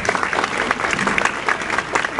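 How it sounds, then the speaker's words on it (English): A classroom of children claps in a dense, steady round of applause, loud and close, with a faint murmur of voices underneath. "Claps."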